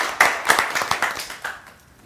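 Applause for the president at the final of a Haitian reality show: a crowd of hands claps rapidly and unevenly, with louder bursts standing out, filling the whole stretch at moderate volume.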